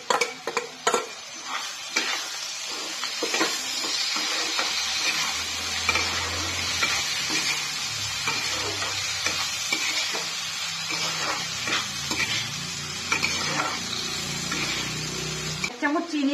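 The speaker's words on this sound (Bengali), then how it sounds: "ভালো করে নেড়ে নিচ্ছি।" Onions and potatoes fry and sizzle in a pan, seasoned with salt and turmeric, as a spoon stirs them in scraping, clattering strokes over a steady loud hiss, with a brief low rumble partway through.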